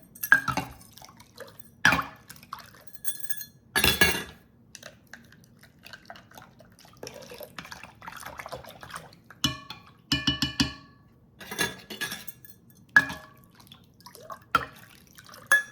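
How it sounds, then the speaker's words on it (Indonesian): Spoon clinking and tapping against a bowl while yeast is stirred into water for French bread dough, irregular sharp knocks over a quiet background. "Jadi yeastnya saya masukin sini. Campur pakai air."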